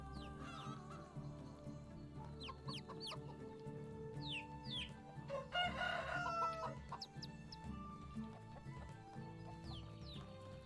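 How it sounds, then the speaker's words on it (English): A rooster in the farming game Medieval Dynasty crows and clucks, with repeated short clucks and one longer crow in the middle, faint against a steady ambient game background. "there's the new rooster model"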